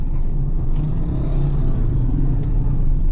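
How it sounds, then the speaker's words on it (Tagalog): Steady low rumble of city-centre road traffic, engines droning continuously near and loud with a couple of faint brief higher clicks, no voices. "maraming traffic."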